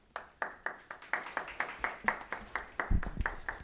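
Scattered, uneven handclaps from a small audience at a Sacramento Regional Transit District board meeting, welcoming the CTA executive director to the podium; moderately close and irregular, ending in a slightly louder burst.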